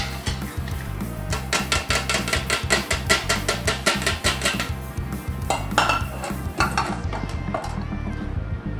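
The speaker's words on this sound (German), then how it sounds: "Jetzt das Ganze noch absieben, damit man Zitronengras," Curry sauce with lemongrass and onions being pushed through a metal sieve, a rapid run of rhythmic scraping clinks and rattles, close and fairly loud, fading at the end with no talk.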